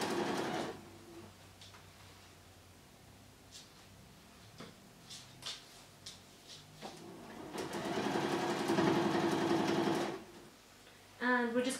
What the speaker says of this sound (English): sew around the top to join the lining, the outside and the straps all together